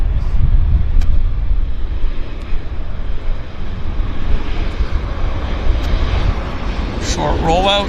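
An airplane lands at Vancouver Airport with a steady engine roar and wind rush, heard from a distance. Voices come in briefly near the end.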